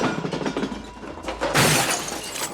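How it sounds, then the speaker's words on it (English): A piece of antique porcelain smashes inside an antique shop, a loud, bright crash of breaking ceramic with scattering shards following rustle and movement beforehand. "Borat smashes a piece of antique porcelain"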